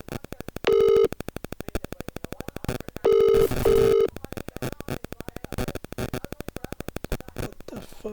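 Repeating telephone busy tone after a call is hung up: short, evenly spaced beeps with a few longer steady tone bursts, clear and alone with no talking.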